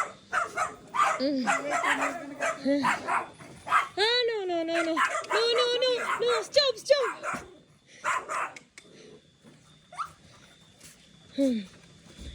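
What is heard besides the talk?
dogs barking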